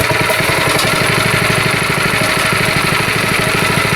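A go-kart engine runs at a steady, rapid idle throughout, a loud close mechanical drone with an even pulsing rhythm and no speech.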